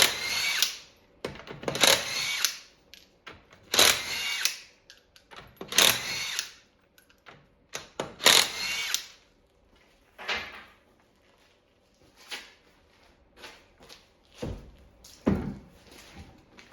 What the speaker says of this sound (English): Remove the rear wheels using a 21mm socket.